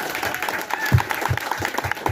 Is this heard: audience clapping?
yes